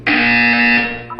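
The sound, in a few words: buzzer in Portal 2 video game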